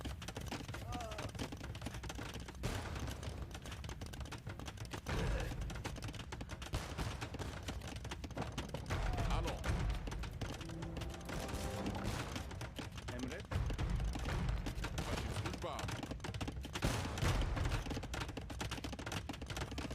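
Hand cannoneer units in an Age of Empires match fire in scattered, quiet pops, mixed with other small battle sounds throughout.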